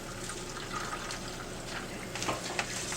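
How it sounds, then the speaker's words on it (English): Water poured from a plastic cup pinched into a makeshift spout, a soft, steady trickle and splash that rises briefly near the end, quiet and alone. "Nice about plastic cups, you make your own pour spout."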